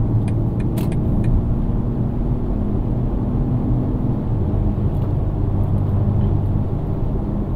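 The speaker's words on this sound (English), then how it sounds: "So you can see the car gets full power, and we are in sport mode." A 2025 BMW X3 M50 in sport mode at full power, its engine a steady deep roar under loud road and wind noise from inside the cabin, with a few faint clicks.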